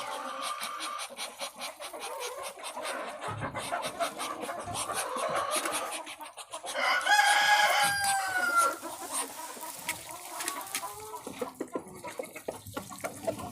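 Chickens cluck repeatedly at close range, with a rooster crowing partway through, while water splashes and trickles nearby among feeding ducks in a farmyard.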